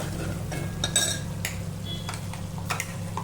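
Masala being stirred and roasted in oil in a pan for Kolhapuri egg curry, with scattered spoon scrapes and light clinks against the pan over a steady low cooking hum.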